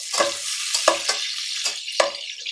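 Cumin seeds fry in a non-stick pan while being stirred, four or five sharp scraping strokes cutting through a soft sizzle, close and alone without talk.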